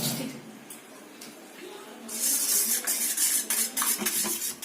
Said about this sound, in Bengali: এবার এটা ভালো করে ফেটিয়ে নিতে হবে।